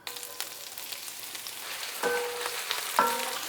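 Onions sizzle in hot oil in a wide pan, a steady soft crackle with brief louder bursts as they settle and get moved around.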